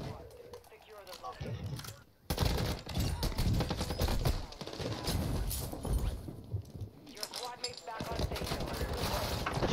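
Sustained automatic fire from a Kastov 762 rifle in a shooter game, dense rapid shots with brief pauses, loud and close, while a player talks over it.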